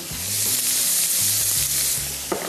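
Half a kilo of chicken fries over high heat with turmeric and salt, making a loud, close, continuous sizzle with a low bubbling hiss and a brief clack near the end.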